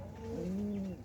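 Domestic pigeons cooing close by in a home loft, a single low throaty coo rising and swelling for about half a second before fading, with no voices.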